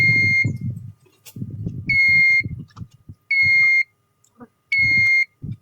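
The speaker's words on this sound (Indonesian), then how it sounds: "ini nanti si buzzer akan mati jikalau sudah berada di 40 derajat" The temperature sensor buzzer on a household biomass water heater sounds three loud, steady electronic beeps in a slow repeating pattern, each about half a second long, with low knocking and handling noises in between.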